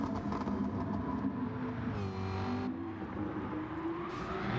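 A Lancia race car in a racing video game drives at speed, its engine whining and rising in pitch through the gears, loud and steady, with brief higher surges as it revs.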